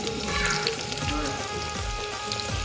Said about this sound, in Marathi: चला आपण कांदा मस्ती लाल ब्राऊन करून घेऊ